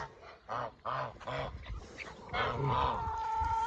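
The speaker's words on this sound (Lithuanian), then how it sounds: "Šitos labai fainos Nilo žąsys" Egyptian geese honk repeatedly at close range, a series of harsh, nasal calls in bursts with some overlapping cries.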